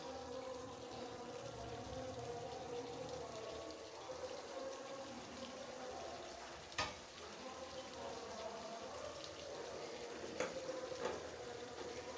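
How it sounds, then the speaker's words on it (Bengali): Chicken skin, gizzard and meat frying in a pan, a quiet, steady sizzle with occasional clinks and stirring scrapes. "চামড়াগুলো, গিলা, মাংস সব কিছু দেওয়া হয়ে গেছে। এখন ভালোভাবে কষিয়ে নেব।"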